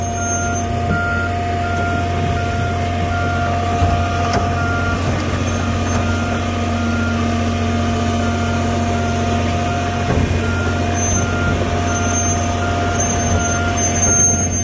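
An excavator moves with its bucket held out, a loud, constant diesel drone near at hand with a regular series of high reversing beeps sounding throughout, no voices.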